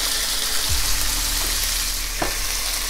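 Beef pieces browning for a spicy Georgian chashushuli stew, frying with a steady, loud, close sizzle throughout, plus a couple of faint knocks and stirs in the pan.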